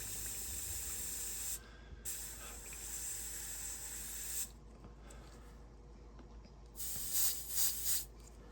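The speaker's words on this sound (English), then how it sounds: "I'm gonna backwash it to mix it" An airbrush backwashes Gaahleri Kaleido paint to mix it, giving three sharp bursts of hissing, bubbling spray separated by short quiet gaps, close and alone.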